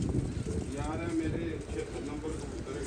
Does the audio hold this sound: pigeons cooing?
yes